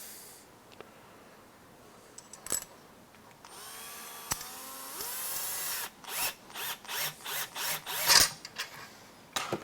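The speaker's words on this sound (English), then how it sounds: "And we're going to put a screw on." A power driver sets a screw into a plastic part of an HPI Baja 5SC RC car build, starting with a rising whir and then giving a run of short, pulsing bursts close by.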